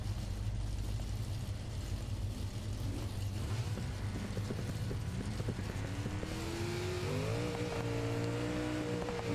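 Race vehicles, a truggy and an 854-horsepower Grulo among them, launch at the start of a U4 race; a fairly distant engine roar swells and rises in pitch over the second half.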